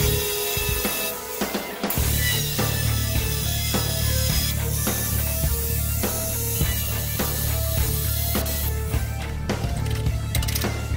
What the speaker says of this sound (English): we're grinding off the tack welds for the jig